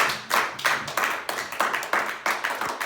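A church congregation claps in a steady rhythmic beat, roughly three to four claps per second, loud and close, with brief pauses between bursts and no voices over it.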